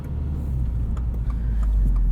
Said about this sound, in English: We'll take this CVT WRX for a drive.